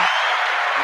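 A soundboard applause effect plays as a short, loud burst of dense, hissy clapping and crowd noise lasting under a second.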